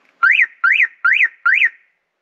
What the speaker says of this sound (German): Jetzt war wieder eine Spannungsänderung, deswegen ist der Alarm sofort losgegangen.